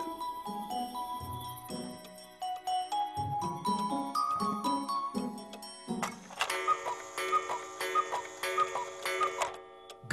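A cartoon clock ticks in a steady rhythm, joined by stepped musical tones that climb, then a bright chiming burst of tinkling bells rings out for several seconds.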